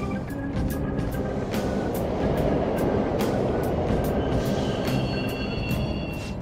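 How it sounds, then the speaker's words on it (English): A subway train in Persona 5 rumbles steadily and loudly throughout, with rhythmic clicking wheel beats and faint high squealing over the continuous roar. "The trains are totally running!"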